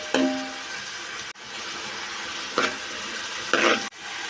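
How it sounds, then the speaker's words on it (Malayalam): Aviyal vegetables cook in a pan with a steady soft sizzle, broken by a few short bursts of scraping from stirring. "തേങ്ങാപ്പാലിലാണ് ഇത് വേകുന്നത്."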